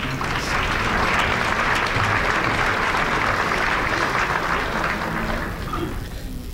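Audience at a Martin Luther King Jr. memorial breakfast event applauding: a dense, steady wash of many hands clapping, loud and continuous, fading slightly near the end.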